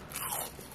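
A brief, faint crunch of someone biting into crispy fried mugwort, close up.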